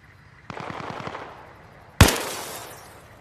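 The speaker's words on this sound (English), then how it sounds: "Somebody's shooting at my fucking window!" In the video game Arma Reforger, gunfire strikes a window: a quick rattling burst of automatic shots followed by a single loud, sharp crack that rings out and fades.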